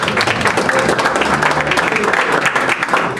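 Audience applause at a kickboxing world title press conference, a steady dense patter of clapping filling the room throughout with some crowd murmur mixed in.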